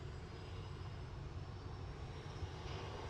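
An EasyJet airliner lines up on the runway at Manchester Airport, its engines making a constant low roar and rumble at moderate distance, with no talk over it.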